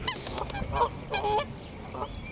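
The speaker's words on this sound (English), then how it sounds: "Sounds like two goose over there having a chat." Two geese honk back and forth outdoors on a walk, a run of loud, nasal calls in quick bursts with short gaps, close and alone without talk.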